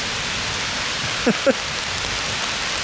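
Steady broadband hiss of rain pattering on a tarp, constant and close, with a couple of brief low thumps partway through.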